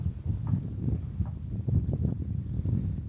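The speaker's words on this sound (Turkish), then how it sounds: "yeni rüzgar çıktı iki dakika önce hiçbir şey yoktu bir anda çıkıyor" Gusty wind rumbling against the microphone in uneven pulses, with faint scattered knocks and rustles underneath.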